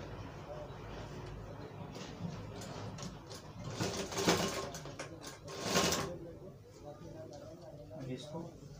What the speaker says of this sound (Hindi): अब इसको ऐसे पल्ला नीचे का कपड़ा खींचेंगे ऊपर से सिलाई मारते हुए।